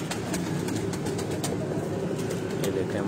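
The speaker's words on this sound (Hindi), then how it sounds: "ये उनके क्रॉस ब्रीड में से कबूतर हैं सारे" Many crossbred breeder pigeons in Kasur cooing together in rain, a dense steady murmur of overlapping coos with scattered sharper calls, fairly close and continuous throughout.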